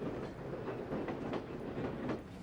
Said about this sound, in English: trains moving dirt, men, and supplies with relentless efficiency